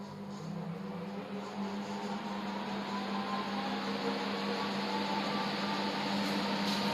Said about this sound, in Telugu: మీకు ఫ్యాన్ నాయిస్ వినిపిస్తుంది కదా